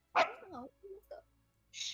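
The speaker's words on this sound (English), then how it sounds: "That was my dog." A pet dog lets out one sharp, close bark, followed by a few softer yelps, while a person speaks quietly nearby.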